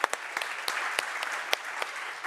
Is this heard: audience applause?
yes